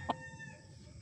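A gamefowl rooster at a gamefarm gives a brief, faint crow-like call against a low background hum.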